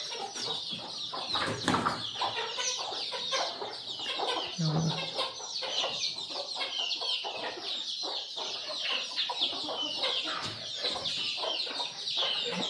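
Free-range country chickens, a large desi breed, cluck and chatter steadily on a farm, many birds at once and fairly close, with no one talking.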